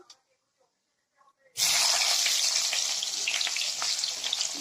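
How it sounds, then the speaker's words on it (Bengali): Quiet at first, then a sudden loud sizzle as chopped onion hits hot oil, hissing and crackling steadily until the end. "পেঁয়াজটা একটু ভালো করে ভেজে নিতে হবে"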